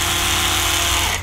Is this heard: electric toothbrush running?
yes